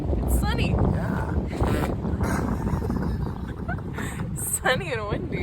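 Gusty wind on a sunny day aboard a catamaran buffets the microphone in low rumbling bursts while people talk over it nearby.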